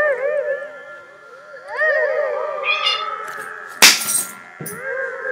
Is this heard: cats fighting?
yes